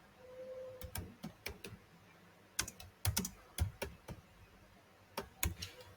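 Keys clack on a computer keyboard as code is typed, coming in quick bursts of close, crisp taps separated by short pauses in a quiet room.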